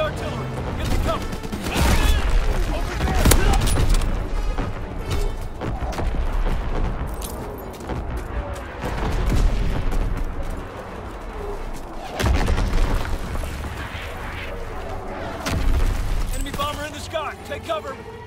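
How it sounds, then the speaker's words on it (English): Artillery shells from incoming enemy fire explode in the Call of Duty WWII video game, several heavy booming blasts with crashing debris and gunfire, under shouted voices of soldiers. "Incoming enemy artillery!"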